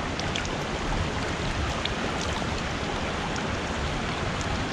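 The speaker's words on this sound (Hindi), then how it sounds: "यहाँ पर मिला पहाड़ों से आता हुआ ठंडा ठंडा पानी" Cold glacier meltwater stream flows down from the mountains of the Baspa Valley, a loud continuous rushing wash of water with no pauses and no talking.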